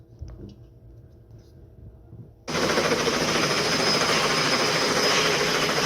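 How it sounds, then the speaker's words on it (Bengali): After a quiet opening with faint background sounds, a helicopter suddenly roars in close and loud, with a dense, choppy rotor thump and engine whine that holds steady to the end. "ও হেলিকপ্টার হেলিকপ্টার দিয়ে আসছে"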